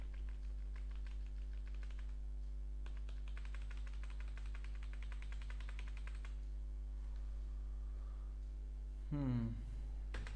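Computer keyboard typing while entering Python code, soft clustered key taps in short bursts over a steady low hum, fairly faint and close.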